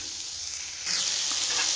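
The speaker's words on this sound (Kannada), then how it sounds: "ಈಗ ಈರುಳ್ಳಿ ಮತ್ತು ಶುಂಠಿ, ಬೆಳ್ಳುಳ್ಳಿ ಎಲ್ಲ ಹಾಕ್ಬಿಟ್ಟು ಫ್ರೈ ಮಾಡ್ಕೊತಾ ಇದ್ದೀನಿ" Onion, ginger and garlic fry in hot oil with a continuous hissing sizzle that swells louder partway through, with soft stirring noises beneath and no voices.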